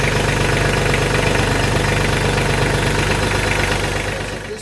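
A Mahindra Max 24 compact tractor engine idles close by with a steady, rumbling, knocking diesel chug, then shuts off and fades out near the end.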